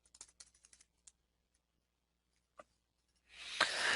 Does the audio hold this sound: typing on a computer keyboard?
yes